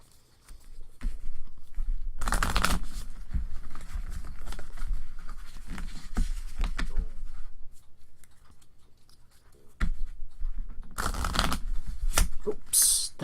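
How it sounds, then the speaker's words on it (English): Bursts of riffling shuffles of sleeved trading cards, crisp broadband flutters around two seconds and again near eleven seconds, with quieter handling and rustling between them. "I'm going to shuffle these like regular cards"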